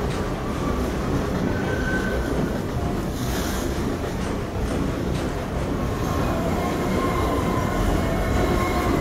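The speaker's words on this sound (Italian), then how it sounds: "va lontano e passano i treni" Trains pass with a continuous loud rumbling roar of wheels on rails that holds steady throughout, close and alone with no talk.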